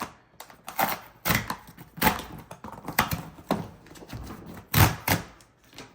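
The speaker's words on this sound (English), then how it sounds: "there's a instruction here to tear it up" A tear strip is pulled open on the cardboard box of an Apple MacBook Pro 14-inch laptop with an M5 chip, making a series of short, sharp ripping bursts in quick succession, close by and with no talking.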